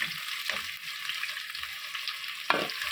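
Onions and chilies with curry leaves sauté in hot oil in a pan for Kathiyawadi-style tempered chickpeas, a steady close sizzle with a few louder spatters and stirring scrapes.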